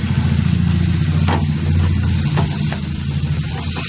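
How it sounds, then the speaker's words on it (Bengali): Marinated chicken tossed into a pan with chopped tomatoes, frying steadily for keema ghughni. A continuous close sizzle runs throughout over a strong low droning hum, with a few soft stirring scrapes. "চিকেনটা দিয়ে এটাকে আমি একটুখানি ভাজা ভাজা করে নেবো"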